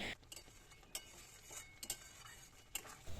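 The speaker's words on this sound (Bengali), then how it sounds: "এভাবে মশলাটাকে বেশ কিছুক্ষণ সময় ধরে কষিয়ে নিচ্ছি" Spice masala with salt and turmeric being stirred and fried in a pan for a prawn and jackfruit dish, with soft scraping of a spoon and light clinks against the metal at irregular moments, close and fairly quiet.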